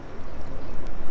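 Coconut milk (santan) pours steadily into a pot of beef curry, a continuous close liquid splashing and gurgling with no talk over it.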